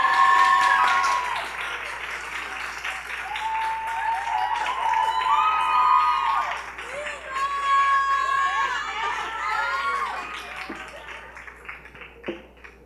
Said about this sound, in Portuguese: Palmas para essas duas maravilhosas pessoas!